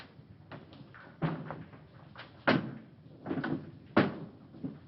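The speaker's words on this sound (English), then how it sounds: "throw the last switch" Lever switches thrown in a tense 1961 horror-film scene: a few sharp mechanical clunks and bangs at irregular intervals, close and fairly loud, over a low room tone with no talk.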